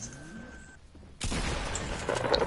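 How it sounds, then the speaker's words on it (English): Gunfire in a shooting video game: after a quieter stretch with a faint tone, a sudden loud burst of shots erupts and continues as a sustained, crackling volley that swells toward the end. "I've shot him a few times."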